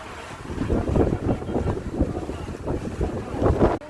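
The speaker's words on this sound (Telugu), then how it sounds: "ఇదిగోండి, ఫుల్గా గాలి వస్తుంది" Strong wind gusting hard across the microphone outdoors among trees, a continuous loud rumbling roar with surging buffets throughout.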